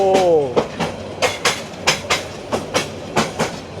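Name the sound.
passenger train moving on rails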